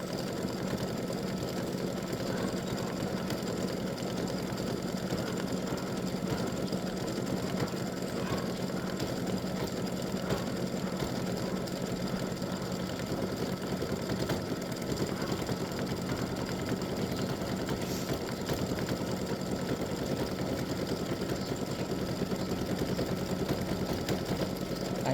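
An embroidery machine stitches a Halloween witch design, a steady, dense mechanical whir with rapid needle chatter running continuously at even loudness throughout, with no voices.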